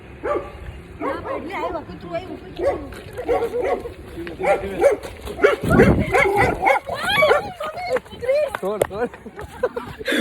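A dog barks and yips several times amid close, lively talking near a cattle shed with cows, the barks short and irregular over the chatter.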